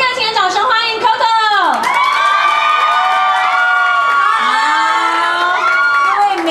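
An audience cheers and whoops loudly to welcome a singer at a charity watch press event, with excited shrills and crowd noise sustained throughout, some light applause underneath.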